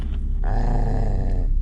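A low, rumbling growl from a dog close by, steady and fairly soft, lasting a moment with no voices around it, at night at a campsite near a tree line.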